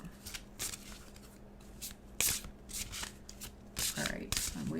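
Tarot cards are shuffled close up in repeated riffling bursts and soft flicks, with a louder snap partway through and quiet handling noise between bursts.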